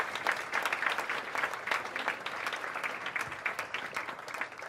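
An audience at the EdRising Literacy Lives Conference 2018 welcomes speaker Justin Campbell with sustained, even clapping from a crowd of many hands, close and continuous, and no voices over it.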